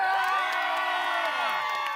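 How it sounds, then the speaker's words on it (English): Crowd at the Louisville mayor's announcement about the Joe Creason Park tennis and pickleball project bursts into loud, sustained cheering and whoops, with scattered voices shouting throughout. "met with thunderous applause"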